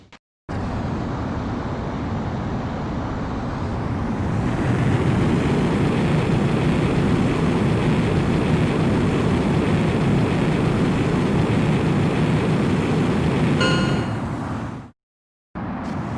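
A fighter jet in the video game Ace Combat X takes off, its engine building into a loud, sustained roar that holds steady for about ten seconds and then cuts out abruptly.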